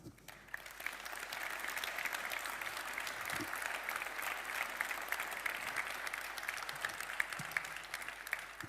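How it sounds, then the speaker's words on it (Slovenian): An audience at an innovation award ceremony applauds continuously for the whole stretch, a dense, even wash of many hands clapping in a large hall, slightly distant. "Tudi sam slišim ta aplavz."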